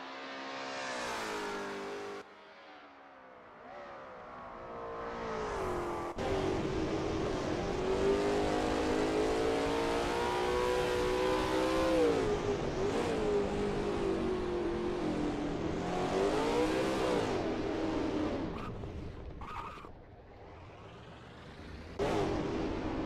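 A Lola T70 MkII Spyder race car engine roars at Kyalami in a racing game, revving steadily with rising and falling pitch through gear changes and corners, loud and continuous, before briefly cutting out and returning near the end.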